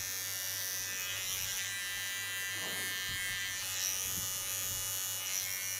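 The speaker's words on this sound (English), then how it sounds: "take a fine comb and go to my small clipper" A small electric hair clipper trims a short silver-gray pixie cut, giving a faint, steady motorized buzz throughout with soft brushing noises as it passes through the hair.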